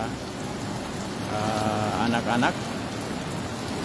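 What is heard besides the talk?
heavy rain falling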